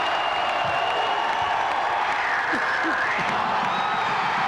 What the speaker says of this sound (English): And the Moline crowd's going to get up and make some noise.